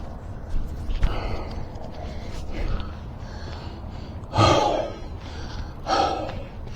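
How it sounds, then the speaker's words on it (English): A man breathes heavily after exertion while swapping the front brake caliper on an electric bike, with labored, irregular breaths and two loud, close gasping exhales toward the end. "Shouldn't be breathing this hard for just moving around"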